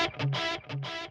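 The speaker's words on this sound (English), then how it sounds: "For this, let's flip on the delay." Electric guitar played through an amp simulator plugin with the delay effect switched on: two short distorted chord stabs, each followed by a repeating echo tail, moderately loud and alone.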